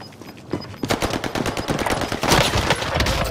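Rapid machine-gun fire and gunshots ring out in a Warzone Pacific match on PS5, beginning after a quiet half second and then continuing as loud, dense bursts that intensify toward the end.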